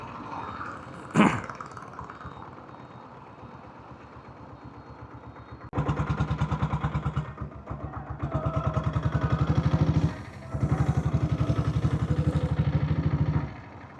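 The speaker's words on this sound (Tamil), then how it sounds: "கரும்பு ஜூஸ் மிஷினோட என்ஜினும் ஜோதி சாரோட வண்டியோட என்ஜினும் ஒன்று." A diesel Royal Enfield Bullet motorcycle engine thumps at idle nearby, with a sharp knock early on, then louder stretches of steady chugging that drop away briefly and return.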